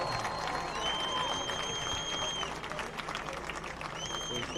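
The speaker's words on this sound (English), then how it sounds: "Let's give the football team a real round of applause." A crowd at a high school senior recognition event applauds the football team, a broad wash of clapping with some cheering and scattered voices, while high whistle-like tones sweep through.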